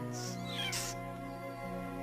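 A leopard cub in an animated film gives a couple of thin, high mews over a steady musical bed, close and fairly soft.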